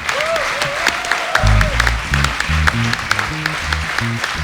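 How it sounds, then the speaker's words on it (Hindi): A studio audience on a comedy show claps loudly while a tabla-driven music beat plays and a brief vocal flourish rises over it. "चारों के लिए जोरदार तालियां।"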